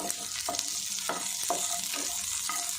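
Small shallots sautéing in hot oil with cumin for a tomato chutney, a steady close sizzle broken by regular scraping stirs about every half second.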